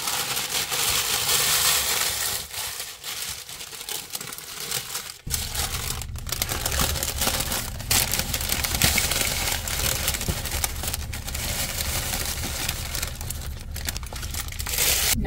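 Parchment paper lined with dried beets crinkles and crackles as a dehydrator tray is rolled up, giving loud, close, continuous rustling with sharp crackly bursts and no talking.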